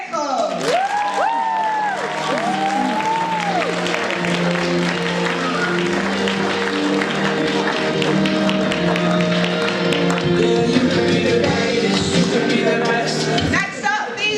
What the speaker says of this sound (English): please keep that applause going for Fatou Shahab